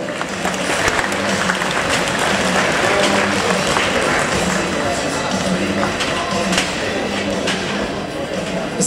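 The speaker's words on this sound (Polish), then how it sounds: "Ogromna brawa dla sponsorów." A crowd applauds the sponsors at an awards event with karate groups, steady loud clapping that lasts throughout. Faint voices and background murmur sit underneath it.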